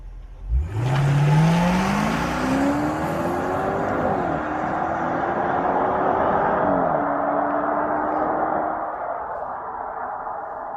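A 2021 Range Rover Westminster pulls away, its engine note climbing steeply then holding a steady hum with brief shifts as it drives on, close and fairly loud, easing off near the end.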